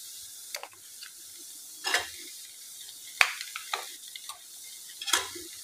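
A spoon stirs tomato ketchup through leftover chapati pieces in a pan, giving several scraping, clattering strokes with quiet gaps between them and a faint sizzle underneath.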